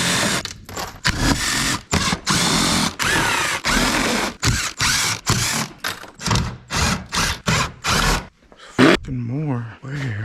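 A 7mm bolt on a Camaro SS splash guard being removed with a ratchet and swivel socket. Rapid bursts of loud ratcheting clicks come close together, with short pauses between them, and a person talks briefly near the end.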